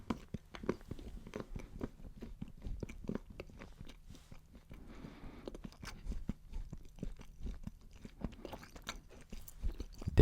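Close, crisp chewing and biting of dark 85% cocoa chocolate, with irregular crunchy bites and mouth sounds spread through the whole stretch, no talking.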